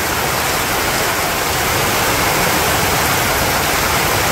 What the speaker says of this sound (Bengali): বৃষ্টি তো ভয়াবহ বৃষ্টি তো।